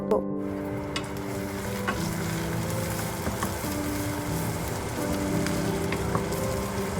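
Onions fry in oil with cumin and sugar, giving a continuous close sizzle with occasional spatula scrapes and light knocks, steady and fairly loud, no talk.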